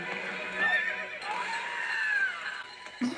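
A horse whinnies in the animated film Barbie as the Princess and the Pauper, a drawn-out, wavering neigh over a busy music and effects bed, ending in a short low snort.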